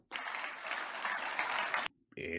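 A political rally crowd bursts into loud, sustained applause for nearly two seconds, then breaks off briefly before a short burst of speech.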